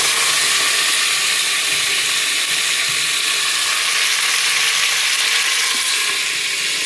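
Fenugreek seeds fry in hot oil until they turn red, giving a dense, steady sizzle that stays loud and even from start to finish, with no voices.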